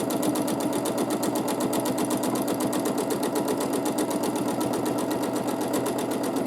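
Steady, rapid stitching of a sewing machine quilting a meander design, a continuous even mechanical whir with fast regular needle strokes running close and unbroken throughout, with no talking.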